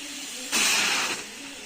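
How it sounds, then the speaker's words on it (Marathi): A brief burst of hissing steam from a pressure cooker whistle while potatoes cook, lasting about half a second over a steady background hum. "हे बघा शिट्टे होत आहेत बघा।"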